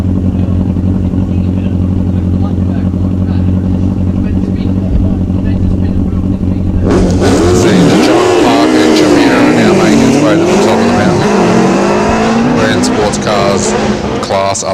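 A hillclimb race car with a 1600 Datsun engine roars in, loud and close, its pitch climbing and dropping through gear changes after several seconds of steady low droning.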